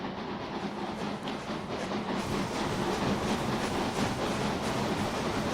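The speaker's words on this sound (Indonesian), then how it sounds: "Kereta api sudah berjalan bro ya." A steam train in the OpenTTD video game runs on rails, producing a loud, continuous rumbling clatter with a steady rhythmic beat that grows slightly louder partway through, with no talking over it.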